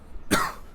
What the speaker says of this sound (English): I've got a cough and stuff today